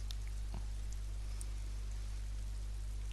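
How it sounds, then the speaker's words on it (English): Rain falling in the video game Disco Elysium makes a steady, soft hiss with a few faint scattered drops over a constant low hum, with no talking. "oh, it's raining"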